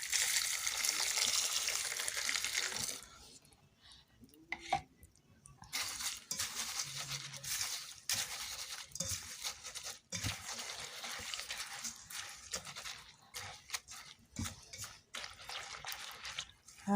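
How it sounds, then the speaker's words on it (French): Rinsed bissap hibiscus flowers drain in a strainer, releasing steady trickling water with scattered drips and occasional light clinks of a metal bowl or pot, close by and fairly quiet. "Alors, après avoir nettoyé, on va égoutter."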